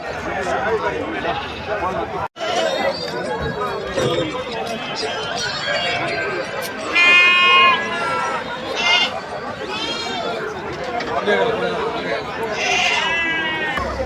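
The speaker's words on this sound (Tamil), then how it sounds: "அழகான செம்மறி குட்டி." A sheep lamb at a goat market in Ranipet gives several short, wavering bleats close by, spaced a few seconds apart, amid constant crowd chatter and people talking.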